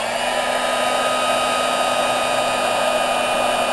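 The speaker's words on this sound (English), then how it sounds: "we can go in with our heating tool," A heat gun blows hot air over fine hot glue strands on a handmade lace ribbon flower, giving a steady, close, even whir that holds without a break.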